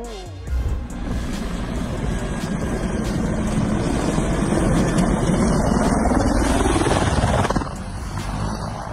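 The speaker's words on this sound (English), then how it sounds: "Oh, that was a really hard landing. But these rugged helicopters were built for days like these" A rugged helicopter comes down in a hard landing with a sudden thump. Its rotor and engine keep up a loud, close, continuous drone afterward, then ease off slightly near the end.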